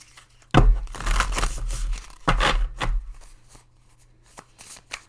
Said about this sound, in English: I shuffle like 3 or 4 ways when I'm doing my cards because I like to.